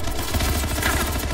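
Continuous rapid gunfire in Anthem, a brief dense clattering burst of shots, loud and close throughout.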